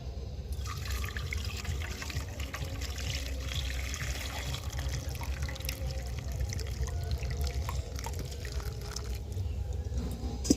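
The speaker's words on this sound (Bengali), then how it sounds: "তবে এই জুসটাকে কিন্তু আমি ছেঁকে নেবো আরেকবার" Watermelon juice thickened with cornflour pours through a strainer, making a soft continuous trickle with faint drips, low and steady throughout.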